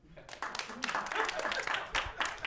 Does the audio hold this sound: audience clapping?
yes